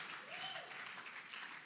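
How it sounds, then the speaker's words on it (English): Audience at a creative summit applauds a speaker with a standing ovation, heard as a faint, distant wash of clapping that holds steady throughout. "Let's give her a round of applause and a standing ovation."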